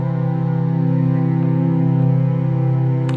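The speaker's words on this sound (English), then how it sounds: "The lowest modulation, it will sound like this." Logic Pro X Studio Strings at the lowest modulation, a sustained low bowed string chord held steadily for about three seconds, loud and smooth, alone with no talking.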